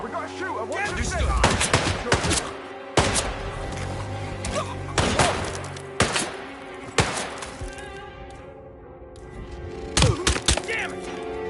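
Gunfire in the video game Hitman 3: loud, sharp shots and short bursts crack out in irregular clusters over about ten seconds, with game voices talking between the volleys.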